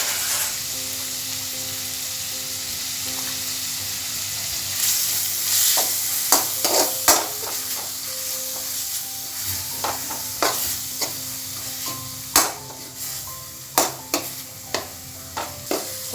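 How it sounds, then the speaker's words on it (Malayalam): Ginger fries in a little oil in a pan for a Kerala-style inji curry: a steady, close sizzle broken by sharp, irregular clicks and scrapes of stirring. No one speaks. "ഇനി നന്നായിട്ടത് വറുത്തെടുക്കാം."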